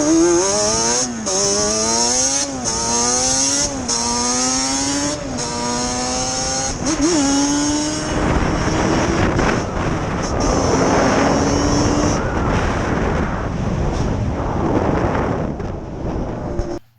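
A Banshee four-wheeler with a 4mill 397cc engine revving hard, its two-stroke pitch climbing through repeated gear changes, then holding a loud sustained roar with heavy wind noise on the microphone.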